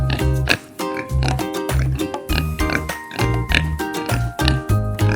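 A pig grunts and oinks again and again in short rhythmic bursts over a looping musical accompaniment, close and fairly loud, without any speech.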